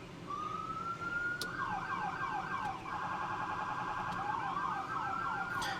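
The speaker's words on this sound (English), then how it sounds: "Once the vehicle is put in drive, you can activate your siren with the dial. So you'll get wail, yelp," A 2026 F350 brush fire truck's siren steps through its wail, yelp, priority and dual-tone modes: a rising wail, then rapid warbling yelps and fast alternating tones, loud, close and continuous with no talking.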